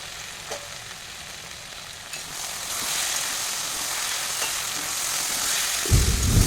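Potatoes with torn green chillies fry in a pan as they are stirred, the sizzle swelling and crackling, with a low scrape of the spatula near the end.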